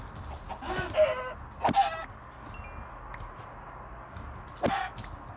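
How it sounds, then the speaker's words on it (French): Scattered clucks from Minecraft chickens, a few short bursts spaced apart over a quiet, hissy background. "Ouais, il y a énormément de poulets ici."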